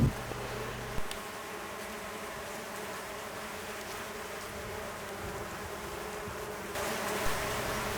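Mason bees buzzing around nesting holes, a continuous close droning hum with wings rising and fading as insects move near and away.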